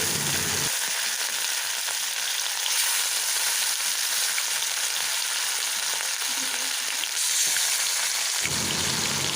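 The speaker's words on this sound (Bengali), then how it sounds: "এর মধ্যেই মাছগুলো ভেজে নিচ্ছি" Rohu fish pieces fry in hot oil for a fish curry, giving an even, dense sizzle like steady rain that holds at close range for several seconds, with a brief dip partway through.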